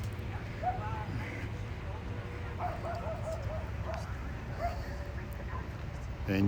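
Faint, high dog whines and short yips come in scattered bursts at a pet patio in the desert, with background noise and a person talking.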